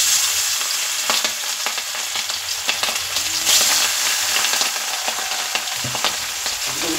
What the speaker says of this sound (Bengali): এক এক করে মাছগুলো ভেজে নেব।